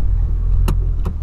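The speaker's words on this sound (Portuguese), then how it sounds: "Vamos chamando aí na partida." A Volkswagen Polo cranks and starts up from inside the cabin, a low engine rumble with two short sharp clicks or bursts, close and fairly loud, no speech.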